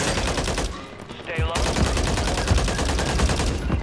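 Rapid gunfire from the video game Warzone, sustained automatic bursts filling the whole stretch, loud and dense, with a brief lull and a short swooping effect midway.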